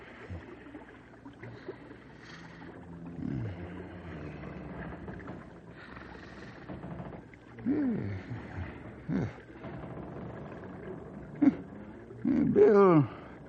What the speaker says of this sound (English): must be snoring hard